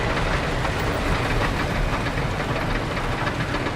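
Steady roaring rumble of the Gemini racing roller coaster trains at Cedar Point rolling along the track, a loud continuous clatter close by without any break.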